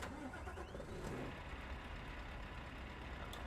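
A Scania truck engine in Euro Truck Simulator 2 turns over and settles into a deep, steady rumbling idle, heard faintly with no talking.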